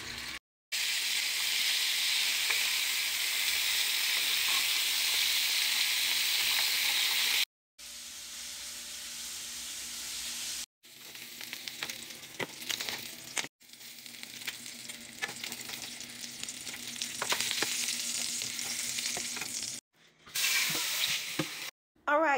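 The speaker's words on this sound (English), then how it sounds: "We're gonna fry these up" Food frying in a pan, a loud continuous sizzle and hiss close up, cut into several sections by brief silences, with faint stirring scrapes in the later stretches and no talking.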